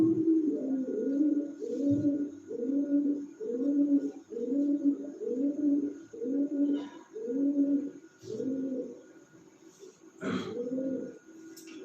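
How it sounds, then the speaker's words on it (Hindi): A pigeon coos close by in a steady series of low, throaty calls repeating over and over, with a brief scuffle near the end. "कबूतर का आवाज आ रहा है।"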